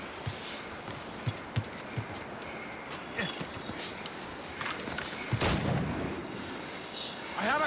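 Gunfire in the video game Assassin's Creed Rogue: several sharp reports and thuds spaced across the clip, followed by a heavier boom, all over low game ambience and muffled voices.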